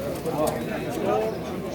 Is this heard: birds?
yes